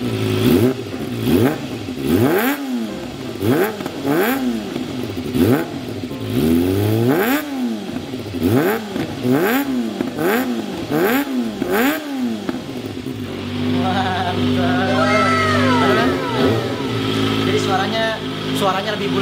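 A Kawasaki Ninja motorcycle engine revs repeatedly in rhythmic bursts up close, each rev rising and falling, then settles into a rumbling idle with a voice speaking over it.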